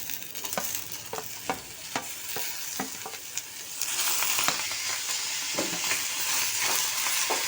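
Onions and tomatoes fry in oil for a vankaya masala curry, with a steady sizzle under repeated scraping stirs, the frying growing louder and brighter partway through.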